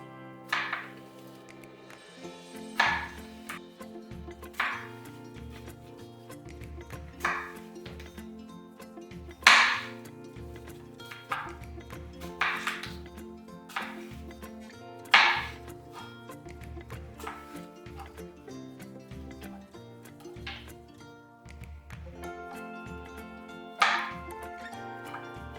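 A knife cuts an apple into small slices on a board, giving a series of crisp, evenly spaced chops over steady background music.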